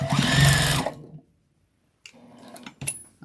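A sewing machine back stitches a Christmas bowl cozy made from fabric scraps: a short, loud, close burst of motor whirring that stops abruptly, followed by a pause and then light clicks and handling sounds.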